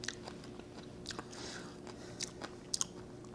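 Crunchy bites into a pickled salsify flower stalk, close and crisp, with several sharp crunches and chewing over a quiet background.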